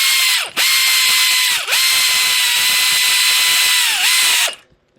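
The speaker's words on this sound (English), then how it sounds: "We're going to use a impact wrench, but we're going to go real easy." Impact wrench gently snugging bolts during assembly of a Typhoon Tilter wind turbine, loud and close, three sustained whirring bursts with brief pauses between, ending in silence.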